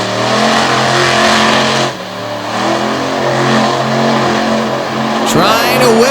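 Monster truck engine revving loud and steady at Speedway 95 in Bangor, Maine, holding a deep rumbling tone throughout, dipping briefly, then a sharp burst near the end, with an announcer talking over it.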